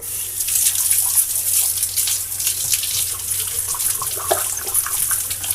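Tap water runs steadily into a kitchen sink, a close, continuous hiss with light splashing and drips against the basin and no talk.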